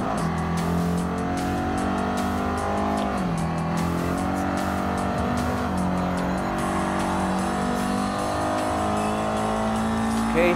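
Race car tires squeal in Gran Turismo Sport during a GT1 custom race, high whining screeches and shifting pitches layered over a constant loud engine roar as the car works through corners.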